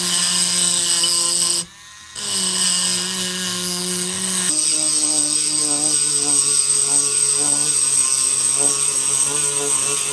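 A handheld rotary tool grinds the flat back of a well-worn chisel bit by bit, giving a loud, steady high-pitched whine that cuts out briefly, then resumes as a continuous buzzing grind with no talking.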